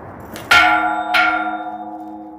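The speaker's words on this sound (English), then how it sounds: "Ring the bells." Two loud bell strikes ring out on a New York street, the first sharp and close, the second a moment later, each leaving a long, fading metallic hum.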